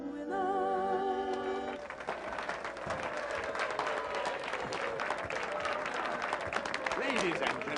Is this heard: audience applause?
yes